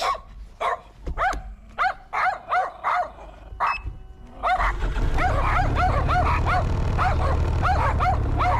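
Several dogs bark and yip excitedly, first in sharp separate bursts, then a dense overlapping chorus of barking and whining over a low rumble, fairly close and loud.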